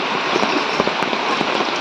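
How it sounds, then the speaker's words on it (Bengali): Steady rain falls on a surface in a continuous, even hiss with scattered drop ticks, close and alone with no talk. "এখন এই যে কয়েকদিন ধরে বৃষ্টি হচ্ছে"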